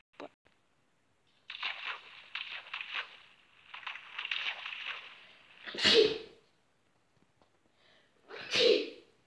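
Two sharp sneezes burst out near the end, well apart and close to the listener, after stretches of soft rustling and shuffling sounds in a quiet indoor setting.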